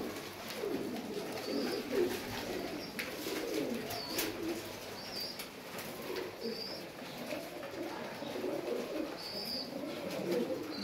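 Pigeons cooing at close range, soft repeated low coos in overlapping phrases over a constant background hiss, with a few faint chirps and no talk.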